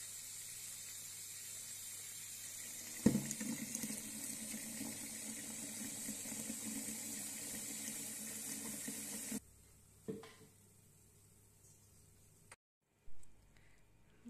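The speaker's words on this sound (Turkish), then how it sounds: "Şimdi üzerine soğuk su dökeceğiz ve biraz daha bekleteceğiz." Cold water pours over soaked wheat for sumalak in a home kitchen. A steady hiss of running, splashing water lasts several seconds, then cuts off, followed by a couple of short clunks and trickles.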